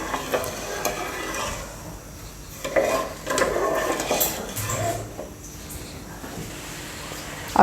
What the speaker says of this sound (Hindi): इसमें साथ साथ जो है ना चम्मच हिलाना पड़ेगा।